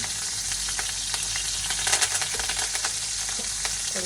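Onion, green chili and curry leaves sizzle in hot oil with a steady, dense crackle and a few sharper pops, loud and close with no voices.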